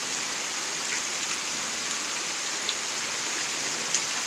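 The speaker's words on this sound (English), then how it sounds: "It's pouring down rain." Steady, heavy rain pours down in a constant dense hiss, with a few louder drips standing out now and then.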